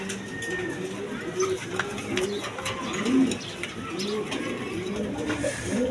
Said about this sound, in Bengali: দর্শক এইখানে এক পেয়ার সুল্লি কবুতর বলে, রেড কালারের মধ্যে।